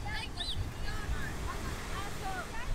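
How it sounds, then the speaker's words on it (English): Strong sea waves at Kaputas Beach near Kaş, Turkey, a steady roaring wash of surf mixed with wind buffeting the microphone, while voices talk faintly over it. "you see how strong the water is, very, very strong"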